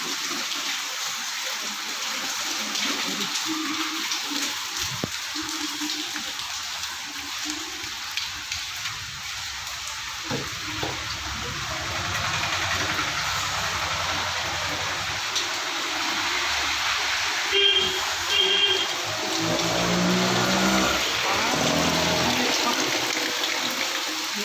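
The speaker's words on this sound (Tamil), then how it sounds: "பெரிய மழை அடிக்குதுங்க" Heavy rain pours steadily outdoors as a continuous broadband wash of water, holding even and fairly loud through the whole stretch, with no talking over it.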